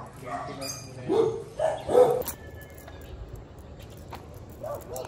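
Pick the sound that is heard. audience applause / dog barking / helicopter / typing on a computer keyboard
dog barking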